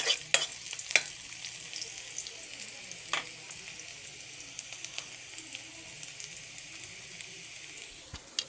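Cuttlefish sizzling and frying in a hot pan while being stirred, a steady soft hiss with occasional clinks and scrapes of a utensil against the pan.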